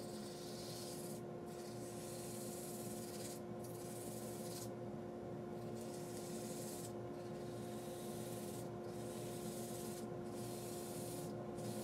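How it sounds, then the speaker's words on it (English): Sanding a winged cherry bowl spinning on a wood lathe: a steady, continuous abrasive rubbing hiss over the constant hum of the lathe motor, close and even, with brief rhythmic dips as the paper is lifted and reapplied. "I basically got the initial part of the sanding that I wanted to do here"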